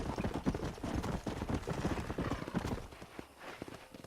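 Horse hooves clip-clop in a quick, steady rhythm while riding in Red Dead Redemption, a continuous close series of muffled hoofbeats over dirt that eases slightly toward the end.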